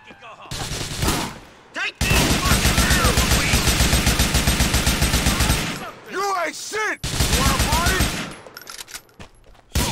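Rapid bursts of automatic gunfire in a GTA 4 Ballad of Gay Tony shootout, loud sustained volleys broken by short pauses, with brief voice sounds between bursts.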